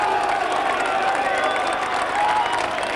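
Rugby league crowd at Derwent Park cheers and applauds a try in a dense, continuous roar of clapping and voices, with a commentator speaking over the noise.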